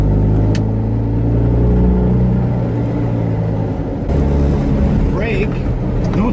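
A Fiat 500 engine drones loudly and close after a heel-and-toe downshift, with the note rising and rumbling as the car pulls away. A person talks over it.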